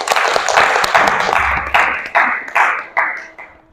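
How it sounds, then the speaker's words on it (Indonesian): Classroom applause for a student group after a presentation in a teacher-training assessment: bursts of clapping that come in several surges and fade away one after another, fairly close and loud. "Beri tepuk tangan untuk kelompok 2."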